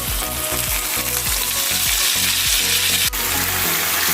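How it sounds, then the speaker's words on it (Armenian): Mushrooms fry loudly in a pan as lecho is added, a dense close sizzle with a rhythmic series of stirring scrapes and one sharp clack near the end. "Մեր սունկը արդեն շատ լավ տապակվել է և արդեն մենք ավելացնում ենք լեչոն"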